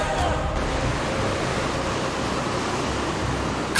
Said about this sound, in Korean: 그런데 기어이 먹구름이 비를 뿌리기 시작합니다